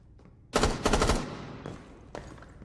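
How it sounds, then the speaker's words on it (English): Video game gunfire in a big echoey room: a rapid burst of loud shots rings out and decays into reverberation, followed by a couple of fainter isolated hits or steps. "Let's take a listen to the gunshots and the footsteps and see how different they sound."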